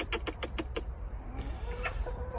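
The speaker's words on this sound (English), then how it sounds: "there's the chickens doing really well" A hen clucks five times in a quick, even series close by on an allotment in January, then the yard goes quieter with a few faint clucks.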